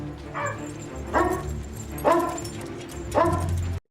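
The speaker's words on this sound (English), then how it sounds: "that dog doesn't seem very energetic" A dog in a film scene whimpers and yips in four short, evenly spaced bursts over a low background hum, fairly close and moderately loud, with no talk.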